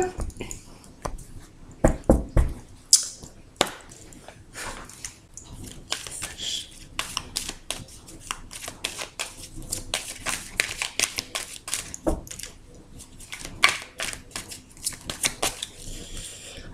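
Tarot cards being cut and shuffled close by, a run of soft rapid riffling and slapping bursts with brief pauses between them.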